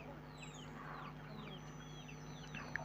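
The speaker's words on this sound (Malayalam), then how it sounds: "കൂട്ടത്തിലുള്ള ഏറ്റവും ഇണക്കുള്ള കോഴിയാണ് ഈ കോഴി." A tame hen among a small flock of chickens clucks and chirps softly in a yard, repeated short calls at moderate distance over a steady background hum.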